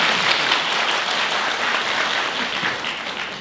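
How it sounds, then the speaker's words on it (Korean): Audience applause at a university admissions information session, sustained and fairly loud clapping from a crowd that carries on steadily throughout with no talk. "박수로 맞이해 주시기 바랍니다."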